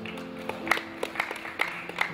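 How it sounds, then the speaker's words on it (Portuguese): A small audience at a street church event applauds, with scattered, fairly faint claps spaced unevenly over a low background hum. "Por favor, uma salva de palmas."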